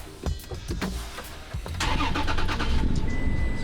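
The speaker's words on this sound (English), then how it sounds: "Start the vehicle up." A third-generation Toyota Tacoma engine cranks with a few quick starter clicks and whirs, then catches and settles into a steady close idle.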